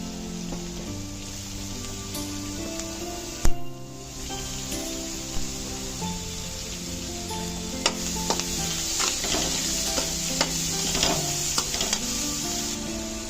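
Cheese and capsicum sauté in a hot pan for a no-oven bread chicken pizza, giving a steady close sizzle with occasional stirring scrapes and a sharp clatter near the start, no voices.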